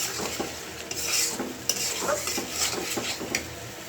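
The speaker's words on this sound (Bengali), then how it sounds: "তো মশলাটা ভালো করে কষায় নিই।" Spice masala frying in a pot while a utensil stirs and scrapes it, a close, busy clatter of metal taps over a continuous sizzle, with no voices.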